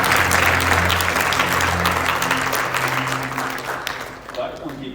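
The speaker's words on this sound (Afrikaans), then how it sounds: "kan ons die Here hartlike hande klap" A church congregation claps its hands in praise during a worship service, dense sustained applause over a low musical drone and some voices, fading toward the end.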